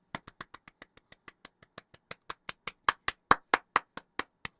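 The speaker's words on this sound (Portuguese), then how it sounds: "Gente, uma salva de palmas." A single person claps by hand in a quick, steady rhythm of about two dozen sharp, close claps, growing slightly louder toward the end, with no talking.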